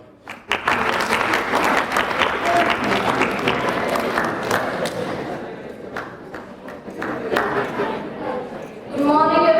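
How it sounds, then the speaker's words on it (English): Audience of students clapping at a school session, steady dense applause lasting most of the stretch with some crowd noise and a few thumps, swelling again near the end. "When you clap, you realize you're clapping for yourself."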